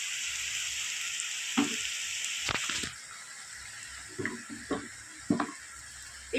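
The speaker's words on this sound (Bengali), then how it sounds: "এবার দিয়ে দেব আদা রসুন বাটা।" Onions sizzle steadily in hot oil in a pan for a home-cooked capsicum chicken, with a few soft knocks and scrapes as ginger-garlic paste goes in and is stirred, the frying hiss dropping slightly partway through.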